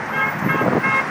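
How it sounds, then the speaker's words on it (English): Horns honk from cars passing on a nearby freeway during a roadside 9/11 memorial gathering with fire engines in Banning, California, heard over a steady, loud roar of traffic. "They're either waving or honking every single car."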